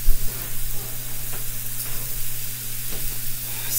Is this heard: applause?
no